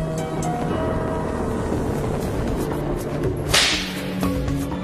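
A sharp whip crack snaps out once amid a steady, rushing background noise, loud and close.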